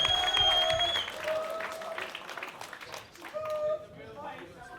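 A fight-night crowd applauds and cheers the reigning Blackbeard Fight Series middleweight champion. The applause swells near the start and then thins, mixed with shouts and with an announcer's voice carrying over it.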